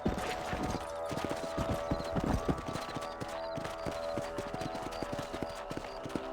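Horse hooves clip-clop steadily at a trot in the Western video game Red Dead Redemption, a close and continuous rhythm with faint background ambience and no talk.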